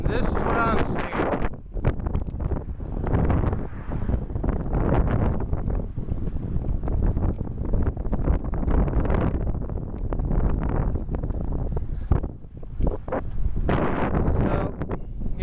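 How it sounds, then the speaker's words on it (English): Strong, loud wind buffets the microphone in a continuous heavy roar with gusty surges, outdoors by a road, while a person talks over it. "So you can hear the wind. It's very loud, very strong today."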